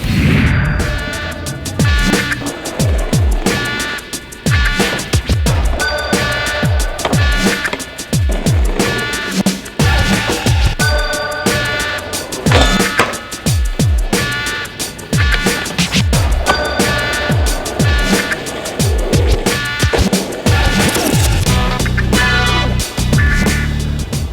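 Skateboard wheels roll fast downhill on hill bombs in Santa Rosa, California, making a loud continuous roar, with rhythmic clacks over pavement seams and a strong rush of wind all the way through.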